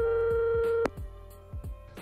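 A telephone ringing tone purrs in a repeating pattern, a steady tone that cuts off and then returns in shorter pulses, clear and close with no talk.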